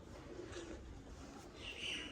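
Pigeons in a loft cooing softly and low, a faint murmur over a hissy background with a brief higher chirp near the end.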